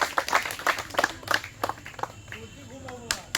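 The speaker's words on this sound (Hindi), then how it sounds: "भारत माता की इस शेर के लिए जोरदार ताली मेरे भाई" Scattered, uneven hand claps from a small group at a home guard physical training academy, about a dozen sharp claps close by, with people talking in the background.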